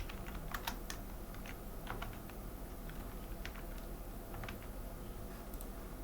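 Soft, quick keystrokes on a computer keyboard as a job description is typed into an HR software form, faint and close, in irregular bursts over a low background hiss.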